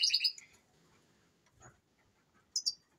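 Male canaries kept for colour, posture and song give short, bright chirps, one burst at the start and another near the end, with faint ticking sounds between in a quiet room.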